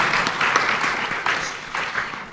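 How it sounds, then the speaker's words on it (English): A conference audience at an international quality tourism event applauds, a dense, steady wash of many hands clapping together, fairly loud and close, lasting the whole moment without pause. "Once again, give a round of applause,"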